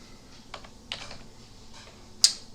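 A few sharp keystrokes tapped on a computer keyboard while entering a verification code, scattered clicks in a quiet room with a firmer final press.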